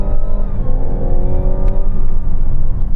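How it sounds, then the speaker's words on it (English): A Mazda CX-60 SUV launching at full acceleration, its engine roaring loud and close with rising harmonic tones that climb steadily over three seconds, carrying a whining, supercharger-like edge. "I'm going to launch it and time it with my specialist timing gear"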